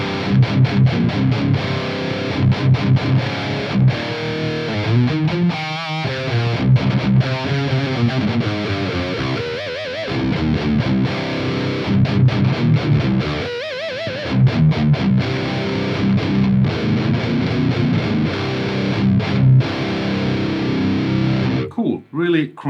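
A Mesa Dual Rectifier amp on channel 3 in modern mode with a solid-state rectifier and an SD1 boost in front, played as tight, crunchy metal guitar: loud chugging riffs and chords that continue steadily, ending in a brief stop.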